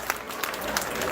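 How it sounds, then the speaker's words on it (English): A short burst of clapping from the crowd at a school graduation ceremony honours the award recipients. It is brief, steady and fairly close, with no speech over it. "another round of applause for all the awardees"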